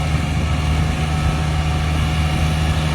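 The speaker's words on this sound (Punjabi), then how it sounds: "ਆਵਾਜ਼ ਇਹ ਬੜੀ ਪਿਆਰੀ ਆ ਟਰੈਕਟਰ ਦੀ ਆ ਸਲਾਂਸਰ ਲਾਏ ਦੇ" A farm tractor engine with a silencer fitted runs at a steady idle, a deep continuous throb with a muffled drone, close and unbroken.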